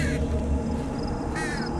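Crow cawing in the horror video game Them and Us: two harsh caws, one at the start and another about a second later, over a steady low ambient drone.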